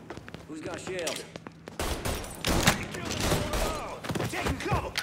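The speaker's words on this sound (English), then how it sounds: "He's firing! Firing now!" Bursts of gunfire in the Mafia 3 video game crackle in uneven volleys across the clip, sharper after the first two seconds, mixed with game noise and voices.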